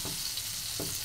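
Garlic sautéing in rendered chicken fat, a dense continuous sizzle with a couple of soft stirring scrapes.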